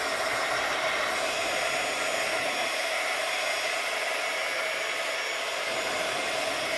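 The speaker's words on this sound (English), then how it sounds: "So I'll dry this a little bit with my heat gun." A heat gun blows a steady, loud, unbroken airy whoosh while drying acrylic paint on a card background, with no one talking.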